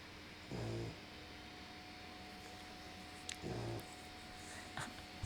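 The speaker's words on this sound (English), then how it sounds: "my dog is snoring." A pet dog snores indoors, two low, rumbling snore bursts about three seconds apart, faint and close against a quiet room.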